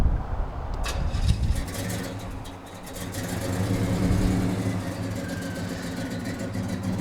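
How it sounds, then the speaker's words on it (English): A Batmobile car engine idles with a low, steady exhaust rumble, swelling slightly as it revs, close by and continuous throughout. "Exhaust sounds really nice on it."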